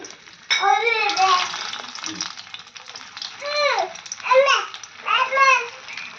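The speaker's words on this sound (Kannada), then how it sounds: "ನಾನು ಒಟ್ಟಿಗೆಯಲ್ಲಿ ಒಂದು ನಾಲ್ಕು ವಡನ ಬಿಟ್ಟಿದ್ದೀನಿ" Four rava vadas fry together in hot oil over a medium flame, a soft continuous sizzle running beneath a voice and other talking that rises and falls over it.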